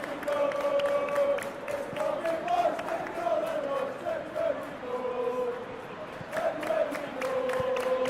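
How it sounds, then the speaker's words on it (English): A football stadium crowd in a video game roars and chants continuously, a dense, sustained wall of cheering voices that swells and dips slightly over several seconds. "the crowd clearly like what they just saw"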